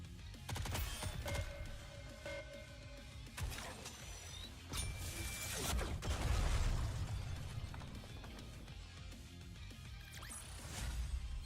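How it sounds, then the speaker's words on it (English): A busy Nikke battle fills the air with clattering mechanical weapon sounds, ratchet-like reload clicks, pops and explosive bursts, all layered over a dense rumbling backdrop of game noise without any speech. "Need more ammo. Taking cover! Reload. Reloading."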